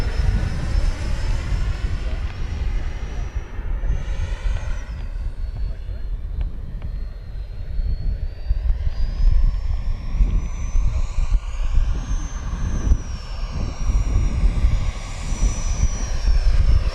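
FMS Rafale 80mm electric ducted-fan RC model jet flying at reduced power over a grass field, a loud continuous whine and rushing roar with pitch slowly rising and falling as it passes.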